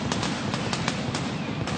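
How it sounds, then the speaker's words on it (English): Fireworks pop over a crowd at a Washington State football senior day, a quick series of crackling bursts about every few tenths of a second against a dense, roaring stadium background. "As the fireworks fly here in a memorable game"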